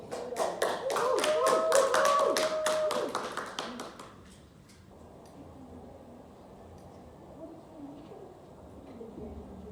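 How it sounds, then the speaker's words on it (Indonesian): A classroom of students applauds together in a dense burst of clapping for about four seconds, then it fades into quiet room tone with faint murmuring. "Kita berikan aplaus untuk itu."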